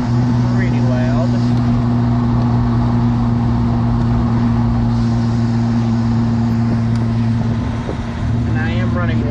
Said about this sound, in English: mine has a hole in the muffler, so it's pretty loud